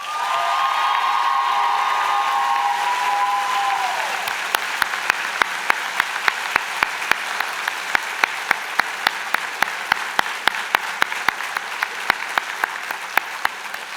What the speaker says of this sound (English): give a big round of applause to Heather Quinn